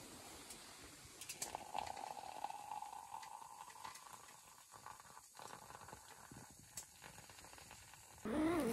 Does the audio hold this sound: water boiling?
yes